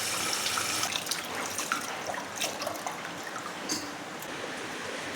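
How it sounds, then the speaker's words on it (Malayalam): Chopped tapioca being washed in water, soft continuous splashing and trickling with small sloshes, close and fairly quiet, no talk. "എല്ലാം അരിഞ്ഞ് കഴിഞ്ഞ് ഇനി കഴുകട്ടെ."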